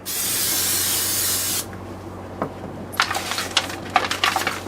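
Cooking oil sprays from a can on a boat in one steady, loud hiss lasting about a second and a half, followed by quieter clicks and clattering.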